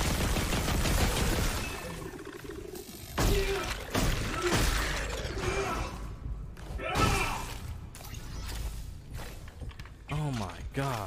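Gunfire in the Dead Space Remake, with several loud sharp shots and clattering bursts spread across the span, mixed with thuds, mechanical noise and breaks of quieter ambience, plus a voice speaking briefly among them.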